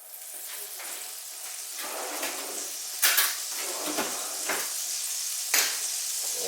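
A steady sizzle of olive oil and butter fills a cast iron skillet, broken by a few sharp metallic clinks and scrapes of a utensil against the pan.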